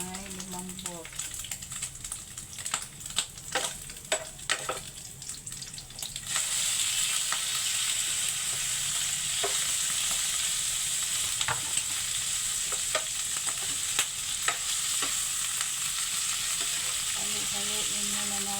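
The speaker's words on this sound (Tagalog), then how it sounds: "Haluin muna natin, mga kananay, para maluto ang ating karneng baboy." Pork meat fries in a pan with a spoon scraping and stirring at first, then the sizzle swells into a loud, continuous close hiss punctuated by occasional sharp spatters.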